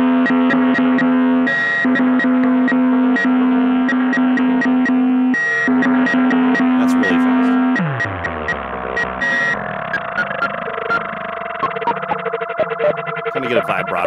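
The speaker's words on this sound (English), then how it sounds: "it goes really fast too, so you get kind of this rhythmic LFO happening" A Synthrotek VERB modulated reverb Eurorack module pulses a sustained synth tone with a fast rhythmic LFO, chopping it into steady even throbs before the pitch sweeps and the texture turns denser and wavering.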